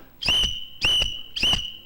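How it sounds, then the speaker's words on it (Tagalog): A whistle used as an evacuation warning signal is blown three times in quick succession, each blast short, loud and shrill, with brief gaps between. "whistles mean evacuate"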